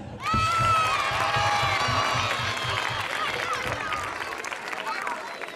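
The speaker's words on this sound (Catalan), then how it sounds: "Segon aplaudiment per tots els que heu vingut a concursar." An audience at a school charity event bursts into loud applause and cheering, with children shouting and clapping together before the noise slowly fades.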